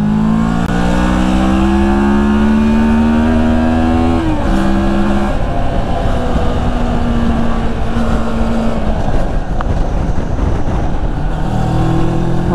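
A Moto Morini X-Cape 650 motorcycle under way, its engine droning loudly and continuously with shifting pitch as it rises and drops through gears, wind rush throughout.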